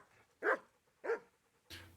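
A dog in the medieval role-playing game Kingdom Come: Deliverance gives three short, sharp barks spaced about half a second apart, clear and isolated with quiet between them.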